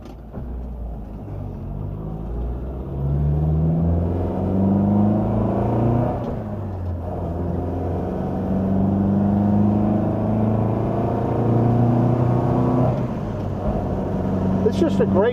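Engine of a 1964 Volvo PV544 Sport heard from inside the car while driving, a steady droning rumble that climbs in pitch through gear changes as it accelerates, with a brief dip in the middle.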